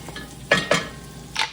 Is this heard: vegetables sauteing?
yes